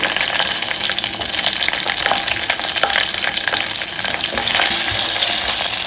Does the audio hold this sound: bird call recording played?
no